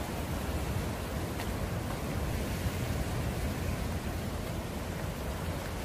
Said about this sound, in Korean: 파도 소리, 갈매기 소리, 갯바위 모두가 힐링됩니다.